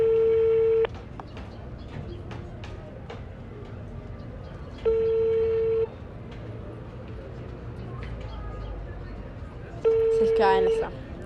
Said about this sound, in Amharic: ስልክ አይነሳም።